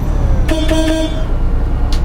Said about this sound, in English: Let's give him a little toot.